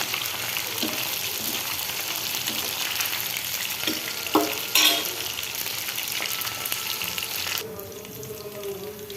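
Tomatoes fry in a pan with a steady, close, crackling sizzle and a few louder pops and stirring clatters, easing to a softer hiss near the end.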